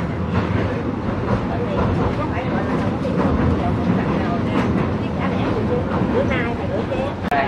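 Steady rumble inside a moving train from Saigon to Mui Ne, Vietnam, continuous and fairly loud, with voices chattering throughout.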